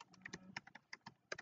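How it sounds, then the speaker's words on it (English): Typing a web address into a browser on a computer keyboard, a quick run of close, crisp key taps in an irregular rhythm, fairly faint, with no talking. "all you really need to do is type in"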